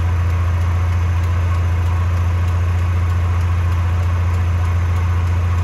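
A buggy engine idles loudly and steadily right after a cold start, with a constant low rumble and a vibrating drone and no voices.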